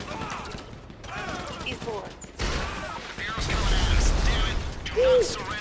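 Gunfire in the video game GTA V crackles in rapid bursts and scattered shots amid game noise, with several people talking excitedly over it.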